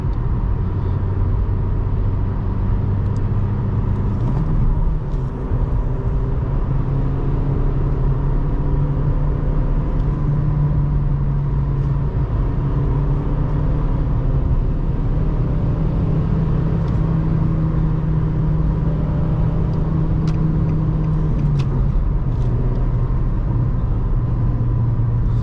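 A 2020 Nissan Versa S with a 1.6-liter engine and manual gearbox drives along, its engine droning steadily from inside the cabin, pitch climbing through gears with brief dips at shifts over constant road rumble.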